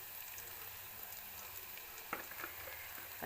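Mutton liver frying in a pan with turmeric, pepper and a couple of green chillies, a soft continuous sizzle with a few stirring scrapes near the end, heard close up and fairly quiet with no talking.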